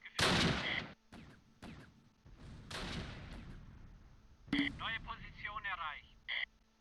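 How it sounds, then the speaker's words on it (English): Mortar and gunfire in the video game Close Combat: several sharp, loud blasts in succession with rumbling decay, interspersed with crackly radio-style voice chatter from the game. "Uh-oh, they are mortaring."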